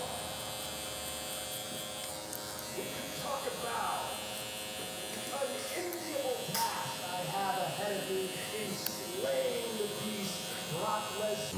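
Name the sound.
Gamma Cyborg hair clipper buzzing while blending a haircut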